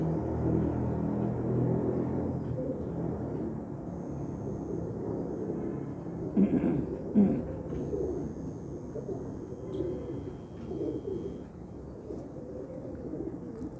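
Domestic pigeons, prized fancy breed birds, coo in low soft rolling calls, several overlapping and continuous near at hand with a steady background hum.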